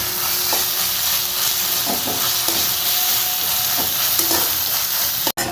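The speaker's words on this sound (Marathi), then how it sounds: "आता आलं लसूण पेस्ट टाकून तुम्हाला अजून थोडा वेळ परतून द्यायचा आहे कांदा आणि आलं लसूण पेस्ट" Onion and ginger-garlic paste stir-fry in a pan for chana masala. A steady close sizzle runs throughout, and a spatula scrapes and clinks against the pan at intervals.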